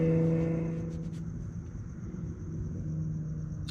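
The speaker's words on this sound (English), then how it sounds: "Sounds like a nice car." A low, steady Ford Focus ST engine rumble with a faint droning hum, holding fairly constant throughout at moderate loudness, like a car idling or passing nearby, at night.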